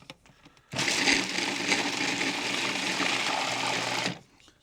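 A food processor pulses flavored butter in a single steady motor burst of about three and a half seconds, loud and close, with quiet room sound before and after.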